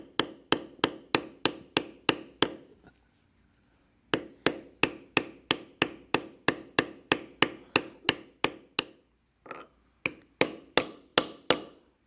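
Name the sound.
large leather beveler being struck to bevel leather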